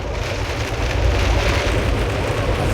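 Heavy torrential rain pours down on the flooding streets of Moab, Utah, a dense, loud, continuous hiss of water drumming on surfaces, with no voices.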